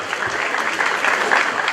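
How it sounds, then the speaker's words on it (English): A crowd applauds at the official opening ceremony of the Newmont Ahafo mine attended by the Asantehene, with dense, steady clapping sustained throughout at a moderately loud level. "A round of applause for the gesture"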